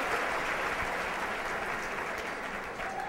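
Audience claps steadily to welcome a speaker onto a stage, a continuous wash of many hands at even loudness with no speech over it.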